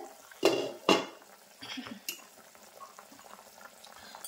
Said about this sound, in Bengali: আমি ঢাকাটা খুলছি।